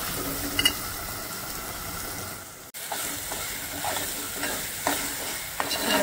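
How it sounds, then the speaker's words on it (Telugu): Masala frying in a pan for a brinjal curry, a steady close sizzle with stirring scrapes, a brief sharp knock partway through, then more scattered stirring strokes over the hiss. "చూడండి మసాలా బాగా ఫ్రై అయింది"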